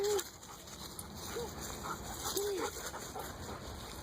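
A dog gives short whimpers and yips now and then during outdoor play with another dog, the sounds faint against a steady background.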